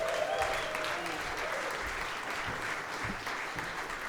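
Audience applause in an Abbey Road studio session welcoming a performer back to the stage, steady dense clapping at moderate level throughout, with a faint voice briefly audible early on.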